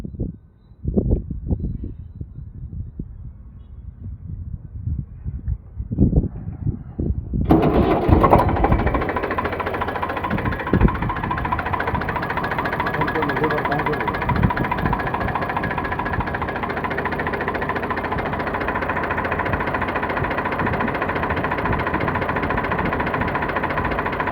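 Diesel engine of a 2015 Eicher 485 tractor starts up after a few cranking knocks, then settles into a loud, steady, rattling idle close by.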